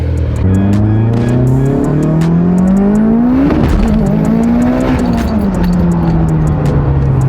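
A car engine revs up and down with a rising, falling growl, punctuated throughout by sharp popping backfire cracks, loud and close.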